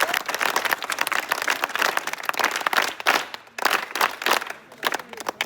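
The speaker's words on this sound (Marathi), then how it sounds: "टाळ्या वाजवा सर्वांनी जोरात." A crowd of students and guests at an Independence Day event at a residential school for the blind in Chikhaldara claps loudly and densely, with brief dips and swells over about five seconds.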